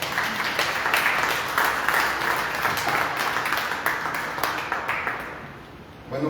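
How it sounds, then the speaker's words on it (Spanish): Applause from a church congregation during a Bible teaching on First Corinthians, steady dense clapping filling the room for about six seconds before tapering at the end. "vamos a dar un aplauso."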